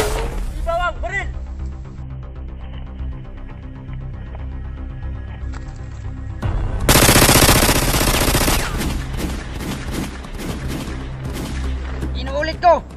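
Gunfire in a shootout scene from an action TV series, a loud burst of rapid automatic shots lasting a couple of seconds, set between stretches of shouted dialogue and a tense music score.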